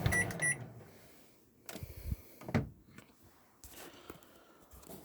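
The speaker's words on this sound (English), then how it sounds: "Start easy cook, and the microwave is coming on." The microwave oven in a 2013 Bailey Unicorn Cadiz caravan starts up: quiet beeps and clicks from the controls, then a few soft clunks and a low hum as it comes on, faint and close with no talk.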